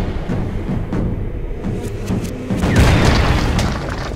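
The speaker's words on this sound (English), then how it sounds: "Go back to your cannon. I don't think you should be standing in front of it when you light it" A cannon fires in a vampire-hunting video game, a deep booming blast with rumbling low-end body that swells near the end and stays loud and sustained without any speech over it.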